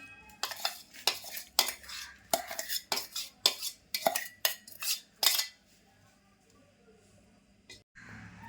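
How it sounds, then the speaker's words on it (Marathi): A spoon scrapes and clinks against a bowl while mixing a coarsely ground dry-fruit mixture of edible gum and dried dates for ladoo, about a dozen rhythmic strokes, close and clear, then quiet. "आता मी ना हे मिक्स करते"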